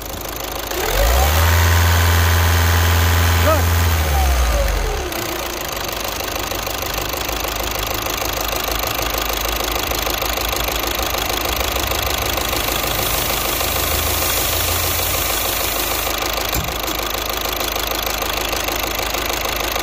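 A Volkswagen diesel engine with a leaking fuel injector revs up loudly for a few seconds, then drops back to a steady, rattling idle that continues throughout.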